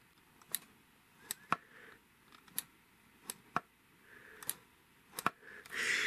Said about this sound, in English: That click is the switch inside when you pull it up or push it down.